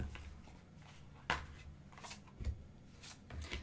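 Tarot cards being shuffled by hand, soft riffling and slapping sounds in several short close bursts against a quiet room background.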